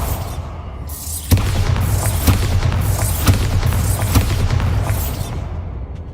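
A Bombarda spell explodes in the Hogwarts Legacy video game: a loud, booming blast bursts in after a quiet second and is followed by a dense rumble with several sharp cracks, sustained close and heavy to the end.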